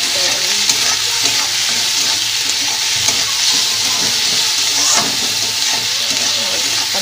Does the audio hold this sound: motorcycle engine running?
no